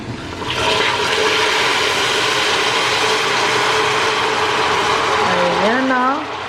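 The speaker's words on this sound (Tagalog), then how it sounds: "Tapos, lalagyan na natin ng tubig." Water poured into a cooking pan of sugar in a home kitchen, a loud continuous rushing splash lasting about five seconds before cutting off, with a voice over the end.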